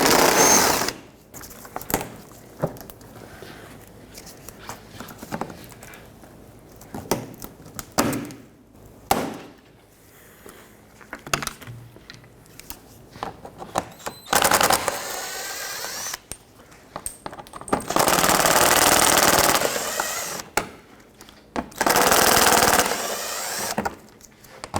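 A power tool whirs in repeated bursts as 7mm screws and push clips are taken out from under the front bumper of a 2005-2010 Pontiac G6, with longer runs near the end and clicks and rustling in between.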